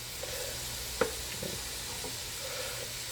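Chopped onions sizzle in hot oil while being stirred for a clam chowder, a steady close hiss with a single sharp clank of the spoon against the pot partway through.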